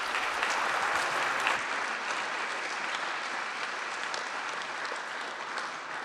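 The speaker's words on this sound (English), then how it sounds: "Give Michael a round of applause, please." Sustained audience applause after a presentation at a Kansas City entrepreneur gathering, steady, dense clapping from a large room throughout, close and fairly loud with no talk over it.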